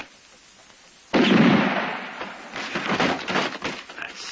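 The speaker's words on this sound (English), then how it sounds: "Go on and shoot! You still got 1 bullet left." A gunshot in a western film rings out as a sudden loud blast with a noisy reverberant tail, then a rougher burst of noise a second later, with no voices.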